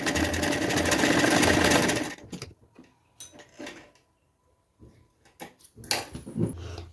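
A sewing machine runs fast and steady while stitching a blouse sleeve, then stops, leaving scattered clicks and handling sounds of fabric and parts.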